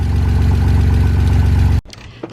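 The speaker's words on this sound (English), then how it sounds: "So we just had our first start. The exhaust is not connected" A loud, rough BMW X5 engine idles on its first start with the exhaust disconnected, a raw, unmuffled rumble, then cuts off abruptly near the end, leaving quiet with faint clicks.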